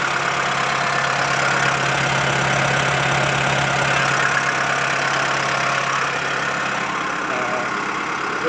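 The four-cylinder turbo diesel engine of a used farm tractor idles loud and close, with a steady low rumble and a rapid, even knocking pulse throughout.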